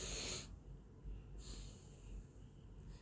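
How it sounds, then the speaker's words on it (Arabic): A person takes a deep breath in, holds it, then lets it out, giving loud close breathy rushes separated by a quieter pause, with no talking. "وبعدين بتاخد نفس كبير، بتبدأ بشوية يعني أنفاس كبار شوية، ماشي، وبتمسك النفس فوق"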